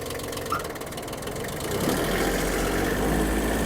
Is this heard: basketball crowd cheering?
no